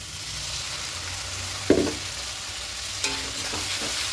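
Spice masala sautés in a pan for a Bengali fish-roe fritter curry, a soft constant sizzle with two brief spatula scrapes against the pan, nearby and without any talk.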